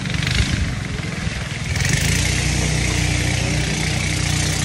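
A running boat's engine on a river trip in Bandarban, a loud, steady throbbing drone close by that firms up into an even, continuous hum, with no talk.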